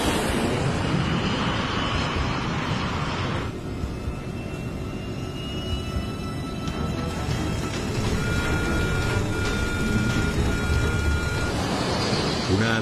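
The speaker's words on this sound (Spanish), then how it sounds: "Una alarma avisa a los pilotos de que algo va mal." Cockpit warning alarm sounds aboard a Spanair MD-82 airliner during its takeoff roll at Madrid Barajas, a steady electronic tone sounding over loud continuous engine and cabin roar.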